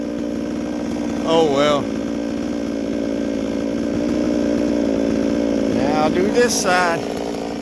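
A chainsaw mills bumps and knots off wooden sill logs so the floor joists sit flat. It runs steadily and close throughout, with someone briefly talking over it twice.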